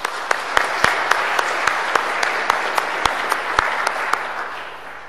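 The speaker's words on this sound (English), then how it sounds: "How about a round of applause?" Congregation applause at a Saturday vigil Mass before Christmas, a moderate crowd clapping steadily with a few sharp, close individual claps standing out above the soft wash of hands.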